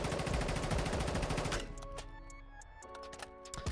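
Soul Reaper Keep gun firing red tracers in a video game, a loud rapid automatic burst that stops abruptly, followed by quieter scattered clicks and mechanical ticks.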